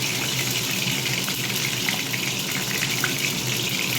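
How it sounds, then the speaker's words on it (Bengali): A plain egg with no turmeric or chili fries in a pan, giving a steady, close, hissing sizzle much like running water, with faint crackles scattered through it and no talking. "এমনি ডিমটা আমি ভেজে নিচ্ছি।"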